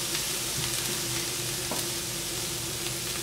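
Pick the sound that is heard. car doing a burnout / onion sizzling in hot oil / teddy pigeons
onion sizzling in hot oil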